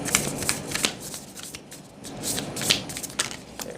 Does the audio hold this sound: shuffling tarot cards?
yes